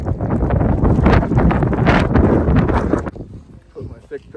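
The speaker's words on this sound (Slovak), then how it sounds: "Sneží, ale to fúka, je zima." Strong wind buffets the microphone on an Everest Base Camp trek during a snowy, cold evening, roaring loudly for about three seconds before easing into quieter gusts and faint rustles.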